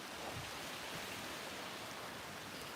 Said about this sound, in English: Rain out here, you know.